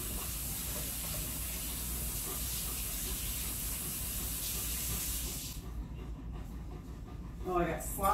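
Tap water runs steadily into a kitchen sink as someone washes their hands, a broad hissing spray that cuts off partway through, followed by a few soft clinks and a voice murmuring nearby.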